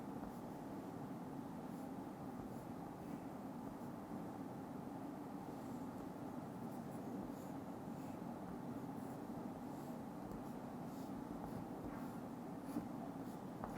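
A pen draws vertical lines on paper in a steady, continuous scratching that runs throughout, close and fairly quiet, with no talking.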